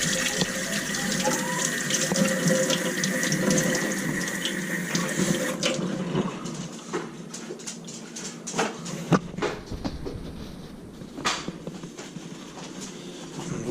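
Water runs from a tap into a sink for several seconds, then stops, leaving scattered drips, splashes and faint handling noises close by.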